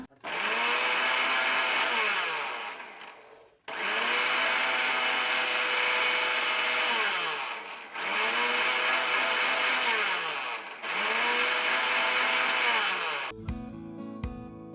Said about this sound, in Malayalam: ഇനി ഞാൻ അതൊന്ന് അടിച്ചെടുത്തിട്ട് വരാം.